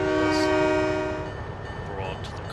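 Train horn blasts from a freight train hauling a few cars for local industries in the Trainz railroad simulator game, a loud sustained tone fading into rumbling rail noise and clatter.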